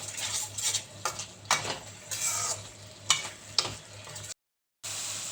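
Spice masala with a little sugar fries in a pan while a spoon stirs and scrapes in repeated strokes, a soft sizzle running underneath, followed by a brief silence.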